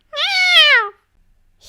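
A cat gives a single clear meow, close and loud with a rising then falling pitch, heard in a reading of the Winnie the Witch storybook, followed by silence.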